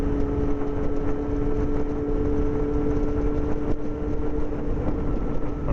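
A Yamaha FZ6 motorcycle with a custom exhaust is ridden on the road, its engine a steady loud drone with constant wind and road noise and no change in pace, no talking.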